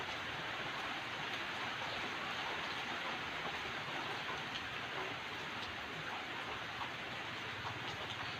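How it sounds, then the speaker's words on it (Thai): Steady, dense rainfall pours down without a break, a continuous hiss of drops hitting surfaces at an even level throughout, with no voices. "ฝนทั้งวัน"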